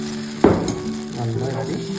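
Appam batter hits a lightly oiled pan with a sharp initial hiss, then settles into a steady close frying sizzle with soft stirring-like crackles.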